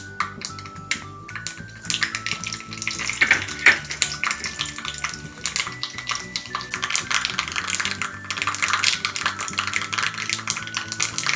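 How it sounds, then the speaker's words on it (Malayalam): Dried red chillies fry in hot coconut oil with popped mustard seeds for a jackfruit-seed and mango curry, dense crackling and sputtering spits close by, continuous and busy throughout with no talk. "കടുക് പൊട്ടിയ ശേഷം വറ്റൽമുളക് ഇട്ട് കൊടുക്കാം"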